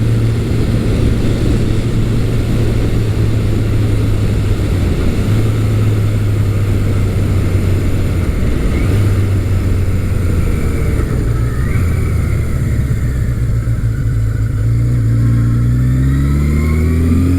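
A Kawasaki KZ1000 or Suzuki GS1100 big-bore motorcycle pulls hard from low revs, its engine droning loud and close, then rising in pitch through the gears toward the end of the run.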